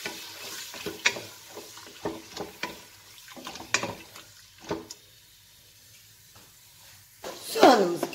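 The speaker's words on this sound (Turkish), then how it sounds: "etimi kavuruyorum" Meat frying in oil in a pan for a chickpea and meat stew gives a soft sizzle with intermittent stirring clatters and scrapes, while a voice talks over it.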